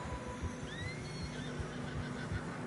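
A horse in Red Dead Redemption 2 gives a clear whinny over a snowy trail, set against soft, steady hoof clops and a faint low rumble, with no talking.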